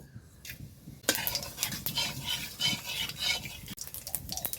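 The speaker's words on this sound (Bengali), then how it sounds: "তো ফোড়নে আমার এখানে কয়েকটা সাদা এলাচ রয়েছে, একটু দারচিনি আর গোটা জিরে দিয়ে দেব।" Whole white cardamom, cinnamon and cumin hit hot oil with a sudden crackling sizzle that carries on busily, mixed with stirring and a few metal utensil knocks against the pan.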